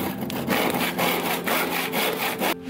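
Hand saw cutting the corners off a wooden pulley blank, a close, steady back-and-forth rasp of about five even strokes, each swell and fade clearly separated, ending abruptly.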